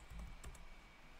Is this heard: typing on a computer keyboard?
yes